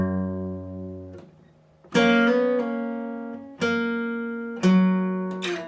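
Guitar plays a verse phrase slowly, a held low note fading before three separate strummed chords ring out in turn, each struck firmly and left to decay, close and alone with no voices.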